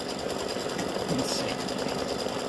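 An embroidery machine stitching a flower design on fabric runs in a fast, even mechanical chatter, close and continuous, with a steady motor drone underneath.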